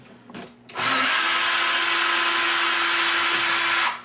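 A power drill whirs at high speed for about three seconds while backing out the screws holding an old door lever handle set, starting abruptly and cutting off cleanly, loud and close.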